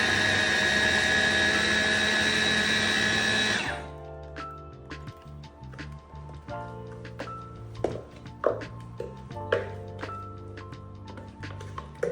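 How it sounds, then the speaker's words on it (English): A Buchi mix food processor minces pepper with a loud, steady whir for about four seconds, then cuts off abruptly. Quieter clinks, knocks and handling sounds follow as the container is moved. "keep mincing the pepper until I exhaust everything in my Buchi mix food processor"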